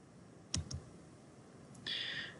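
A single mouse click on an Excel workbook, two quick faint taps close together, followed by a brief soft hiss, in a quiet room with no talking.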